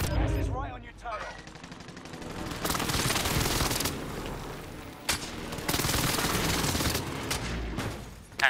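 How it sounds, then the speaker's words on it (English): A loud, dense barrage of game explosions and gunfire from an allied precision airstrike in a shooter, dropping out briefly and then surging again in heavy bursts, with voices talking over it. "Allied precision airstrike incoming."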